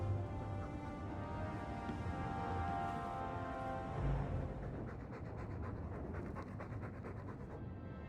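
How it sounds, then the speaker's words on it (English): A dog pants in the video game Dragon Age 2, with steady, rhythmic, close breaths that continue without a break and no voices. "All that noisy dog breath, day in, day out, make him stop."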